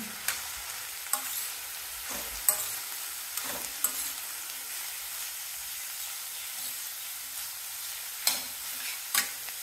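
Chopped beans and grated carrots sautéing in a pan for upma, a steady soft sizzle broken by intermittent scraping and clinks as the vegetables are stirred up close.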